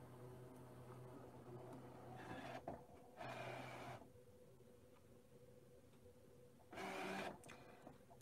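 A Brother ScanNCut DX cutting machine cuts automatically: faint, steady motor whirring broken by several short raspy bursts as the blade carriage moves, with no voices.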